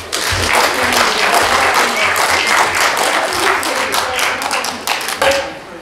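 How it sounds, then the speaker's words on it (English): A church audience gives a full round of applause during a worship service, with dense, close clapping carrying throughout. Scattered voices rise within it before the clapping thins and tapers off at the end. "Can we give another round of applause?"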